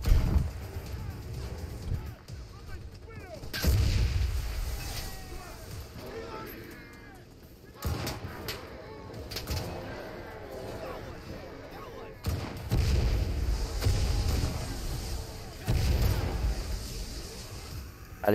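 Heavy explosions boom in the WWII shooter Enlisted during a zombie-defense event on the Soviet side, several loud blasts landing in bursts a few seconds apart amid rumbling battlefield noise.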